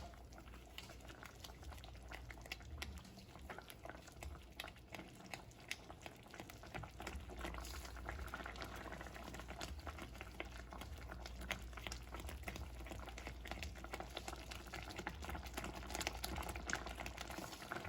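Cheese sauce for blackened salmon pasta bubbles steadily on medium-high heat, a continuous dense simmer of small popping bursts that holds at a fairly even level throughout, with no talking.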